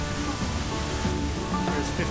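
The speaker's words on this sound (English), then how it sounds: "we're going to go on the back side of the waterfall" Broadband rushing water from a waterfall along the Trail of 10 Waterfalls in Silverton, Oregon, a steady continuous roar filling the scene with faint crowd murmur mixed in.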